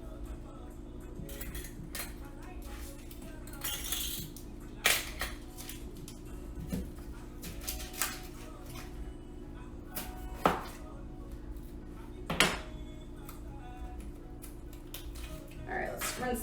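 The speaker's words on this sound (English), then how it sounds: "We're gonna chop some onions." A knife chops onions on a cutting board in short, irregular knocks, a few louder strikes standing out over a steady background hum, with a voice talking at times.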